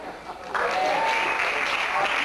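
An audience claps together at a university talent show, a steady burst of applause that swells suddenly and holds at a loud, even level for a couple of seconds.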